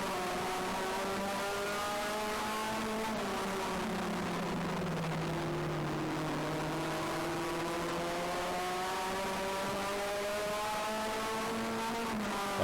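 Race cars in a heat race on a short-track circuit, a sustained engine roar whose pitch dips and climbs again as the cars lap, steady and fairly distant, with no voices.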